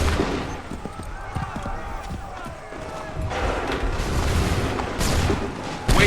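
Assassin's Creed 3 video game battle with musket volley gunfire: repeated loud cracks and booming volleys under shouted voices, with hooves clopping and a sharp new burst near the end.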